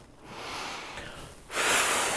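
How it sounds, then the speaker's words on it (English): A breath drawn in during a children's singing lesson, heard as a soft, airy inhale that swells and then ends in a sharper, louder rush of air, with no voice. "Breathing in."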